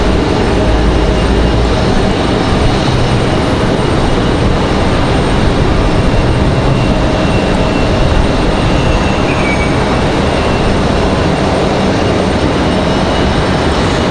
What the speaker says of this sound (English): Over on the other side is the Boston Red Sox livery flies out of here empty.